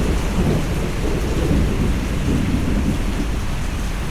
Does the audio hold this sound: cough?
no